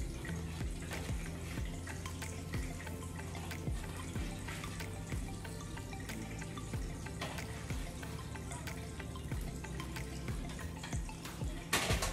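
A kitchen tap runs steadily into a sink while dishes are washed up, a continuous close rush of water broken by clinks and small knocks, with no talking over it.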